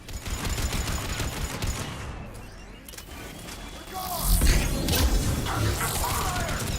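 Rapid bursts of gunfire in the Mass Effect 3 video game, loud and close, with dense repeated shots and impacts building toward the end, mixed with game effects and a voice talking over it.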